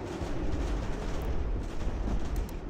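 Musket and cannon fire from an American Revolution battle in Ultimate General, a dense continuous rumble of volleys and booms with no pauses, moderately loud and distant.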